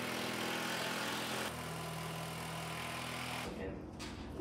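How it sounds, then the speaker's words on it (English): A power drill drives 6-inch screws into wooden 2x4 studs behind a wall, whining steadily and loudly up close, its pitch shifting midway, then stopping abruptly near the end. "We're drilling into the 2x4s that are on the back of the wall"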